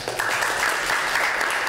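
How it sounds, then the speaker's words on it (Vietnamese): Applause from guests at a Buddhist wedding ceremony in Ca Mau, Vietnam, a steady dense clapping that carries through the short clip. "Xin toàn thể quý vị cho một tràng pháo tay thật lớn."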